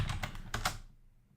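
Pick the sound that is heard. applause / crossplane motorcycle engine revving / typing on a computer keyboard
typing on a computer keyboard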